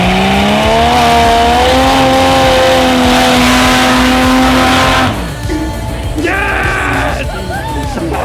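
A drag racing car accelerates hard at close range, its loud engine note climbing steadily in pitch for about five seconds, then shifting through quicker, rising revs as it pulls away.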